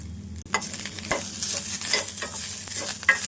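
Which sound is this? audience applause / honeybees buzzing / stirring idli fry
stirring idli fry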